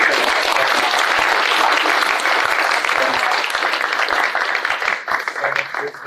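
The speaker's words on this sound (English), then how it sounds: "a round of applause for our panel" Loud, sustained applause from a startup event audience for a panel, dense crowd clapping close by that thins out near the end, with a few voices emerging as it tails off.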